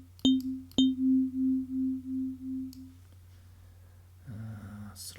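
A software FM synthesizer, the Arturia DX7 V, plays a tone at frequency ratio 13: two sharp metallic plucks followed by a steady, pulsing sustained note that fades out, then a lower buzzy note enters near the end.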